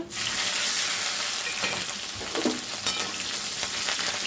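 Cumin seeds, curry leaves, garlic cloves and green chilli tempering in hot oil for a tomato chutney, a dense loud crackling sizzle that runs steadily with a few spitting bursts and stirring, no speech.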